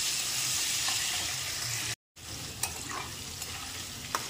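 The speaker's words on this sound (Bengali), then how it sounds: "দিয়ে একটু ভাজা ভাজা করে নেব।" Potatoes frying in oil with turmeric and salt, a continuous close sizzle with a brief cut and then sharp stirring clinks against the pan.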